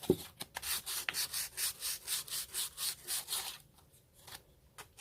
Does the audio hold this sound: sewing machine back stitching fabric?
no